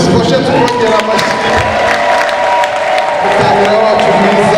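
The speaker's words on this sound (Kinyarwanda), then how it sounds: "reka ntware umwanya turumaze amashyi tukongera amashyi" Wedding guests clap and cheer loudly and continuously, with whoops and crowd voices mixed into the steady applause.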